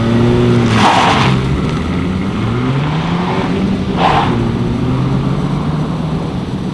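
A 2019 Honda Civic Si with a manual gearbox accelerates hard, its engine note climbing in pitch, dropping briefly at two quick gear shifts, then rising again. Loud and continuous, with no talking.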